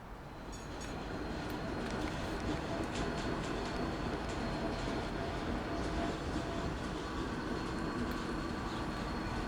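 Steady, rumbling rail noise of a tram running along its track and stopping at a tram stop in the video game Transport Fever 2, a continuous mechanical drone with faint high clicks, close and even throughout.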